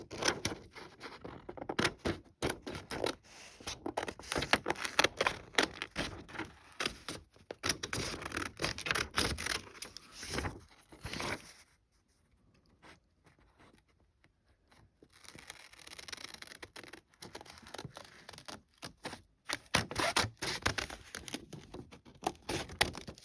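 Scissors snip through paper while cutting out earring tags, giving rapid, close crisp snips and rustles in busy bursts, broken by a quieter pause before the cutting resumes.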